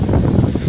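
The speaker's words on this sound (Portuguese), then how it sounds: "Começou aqui esse vento de repente, tá uma coisa de louco." A sudden strong wind gust sweeps through trees outdoors, swirling leaves into the air, heard as loud, close, continuous roaring buffeting with rustling.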